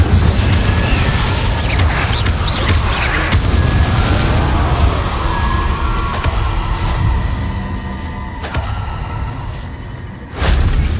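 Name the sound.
Confringo and Incendio spells cast in a video game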